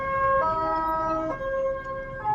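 An ambulance siren wails in heavy traffic on Jalan Raya Sawangan in Depok, stepping between high and low tones close by over a rumble of road noise.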